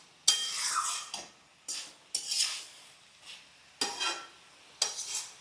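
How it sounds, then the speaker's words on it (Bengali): Spoon scraping and stirring Hilsa head curry in a pan as the liquid cooks down, in several separate bursts with quiet gaps between them, close and fairly loud. "নেড়ে জলটা শুকাতে হবে।"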